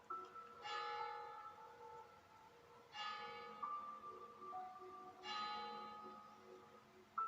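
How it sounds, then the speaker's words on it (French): Church bells ring faintly in the distance, three slow resonant strikes spaced a couple of seconds apart, each leaving a humming decay. "Et vous pouvez entendre au loin le son des cloches."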